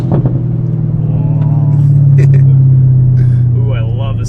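A ZL1 Camaro with an always-open MRT exhaust pulls hard, its deep, loud engine drone swelling steadily under a voice talking throughout.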